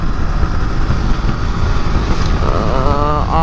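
Steady engine and road rumble from a motorcycle riding on an open road, loud and continuous, with a rising whine near the end; no talking.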